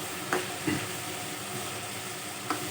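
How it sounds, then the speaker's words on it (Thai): Steady oily sizzle of eel frying in a pan for a Thai herbal eel curry, a continuous hiss with a few soft pops and stirring clinks. "ทอดไปเรื่อยกันนะครับให้มันสุก"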